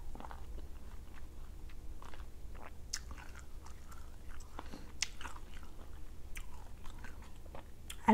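Someone biting and chewing food close to the microphone, with repeated crisp crunches and wet chewing sounds over a low background hum, no talking.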